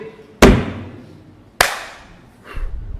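Two sharp, separate pats of palms striking a dusty surface during a tayammum dry-ablution demonstration, about a second apart, each decaying quickly, followed by a softer rustle.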